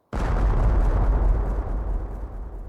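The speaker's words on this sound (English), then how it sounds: "That sounded like an explosion." A single loud explosion in the adventure game Secret Files: Tunguska bursts in suddenly and rumbles with deep low energy, slowly fading over a few seconds.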